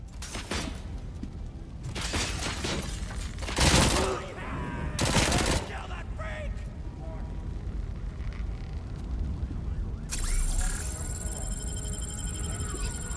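RoboCop's pistol fires in bursts through RoboCop: Rogue City, sharp loud gunshots clustered early, then scattered impacts and a rising high electronic whine, with someone talking over the action.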